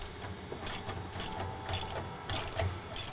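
A ratchet turning the driveline-side bolt on the rear fuel tank strap of a 1999-2010 Ford F250/F350 crew cab short bed: rapid, faint clicking strokes in a steady rhythm, quiet and close, with no talking.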